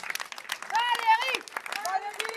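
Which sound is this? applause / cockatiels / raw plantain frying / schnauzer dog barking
applause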